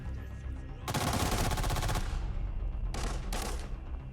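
Vector submachine gun fire in Arena Breakout: two loud, rapid automatic bursts, the first lasting about a second, then two shorter close bursts after a brief pause.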